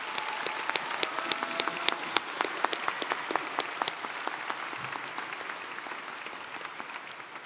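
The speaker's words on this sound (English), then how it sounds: "Please give a round of applause to the doctoral degree recipients." Commencement audience at the UWM Fall 2024 ceremony applauding doctoral degree recipients, a broad crowd clapping with sharp individual claps standing out near the front, gradually thinning toward the end.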